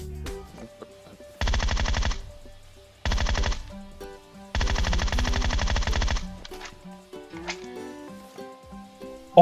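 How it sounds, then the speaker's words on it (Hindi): A Groza rifle with a 6x scope fires in PUBG Mobile, three rapid automatic bursts of differing length, loud and close, over quiet game music. "तो मैंने सोचा क्यों ना ग्रोजा और 6x चलाया जाए"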